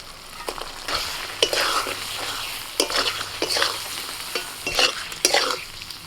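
Boiled eggs frying in a spice masala that has been cooked until the oil separates: a steady close sizzle with repeated scraping stirs of a spoon in the pan, no voices.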